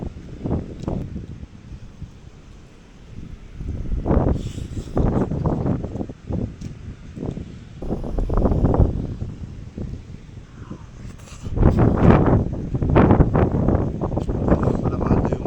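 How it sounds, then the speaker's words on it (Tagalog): Strong seaside wind in Palawan buffets the microphone in loud, rumbling gusts that come and go, swelling hardest toward the end. "Tingnan nyo, lakas talaga ng hangin dito."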